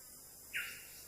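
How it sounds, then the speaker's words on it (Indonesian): A single brief, high bird call rings out over quiet forest ambience in Kutai Barat, clear but fairly distant. "Ada suara burung."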